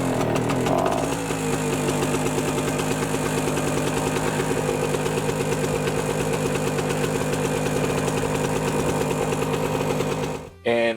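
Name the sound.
Norton PGi1100 inverter generator engine running on test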